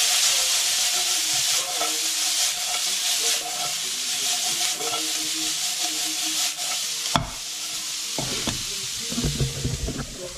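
Pork adobo with onions and garlic cooking in a pan, a steady close sizzle and hiss of frying with occasional stirring scrapes and clatters toward the end, no talking.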